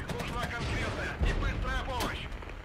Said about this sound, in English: Drop some artillery on these.